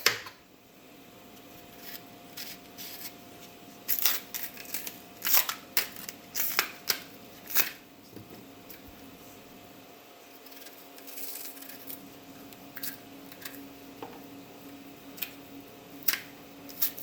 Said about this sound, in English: peel my green plantain. Cut it in half.